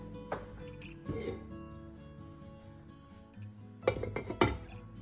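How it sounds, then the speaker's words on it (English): A metal lid clanks down onto a skillet of ground beef and potatoes, a few sharp clinks and rattles as it settles, heard close over a faint steady sizzle and hum in the kitchen. "So we're just going to throw a lid on there."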